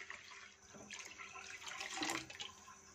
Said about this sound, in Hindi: तकरीबन दो लीटर इसमें पानी शामिल कर देंगे।